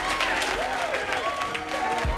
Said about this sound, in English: The crowd kind of erupts in jubilation.